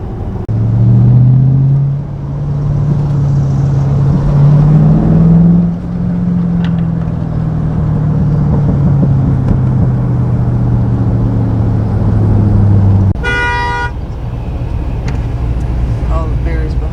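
Chevrolet Camaro cars at a Camaro car show, a loud engine drone with a slow pitch sweep holding steady for several seconds before cutting off, followed by a burst of horn beeps and lighter crowd noise.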